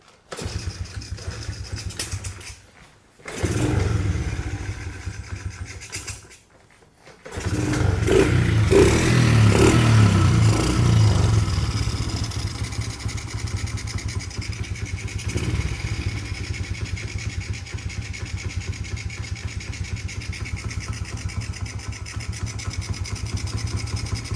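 A dirt bike engine kicks over and catches, then settles into a steady, loud idle that runs continuously with slight clattering after a brief false start and pause.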